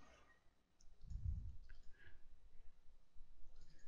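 Computer mouse clicking in RaceRender software, a few soft, close clicks in a quiet room with no talking.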